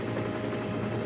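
Harold the helicopter from Thomas & Friends buzzing away, a steady whirring rotor drone with a faint mechanical ratchet texture, holding even and fairly loud throughout with no voices.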